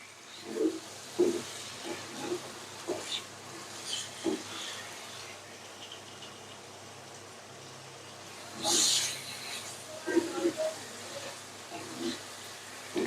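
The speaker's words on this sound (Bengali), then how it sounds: "এখন এটাকে আমি ভালো করে কষিয়ে নেব।" Chicken with red chili powder sautéing in a pot for jhal polao, a steady low hiss with scattered stirring scrapes and a louder sizzling burst midway, close by and with no talk.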